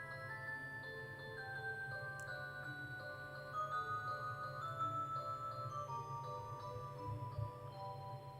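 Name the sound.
sitting room clock ticking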